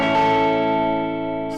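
Electric guitar chord through an Axe FX 3 drive block filter effect, a single sustained distorted strum ringing out and slowly fading.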